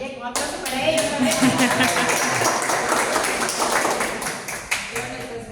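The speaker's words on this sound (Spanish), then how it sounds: "un aplauso para ellos también" A group in Lambayeque, Peru applauds assistants at a gathering, with dense clapping running steadily for several seconds after a brief pause, a few louder claps near the end.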